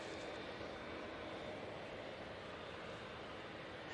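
A TUI airliner on a positioning flight to Birmingham gives a faint, steady, broadband engine rumble with no talk.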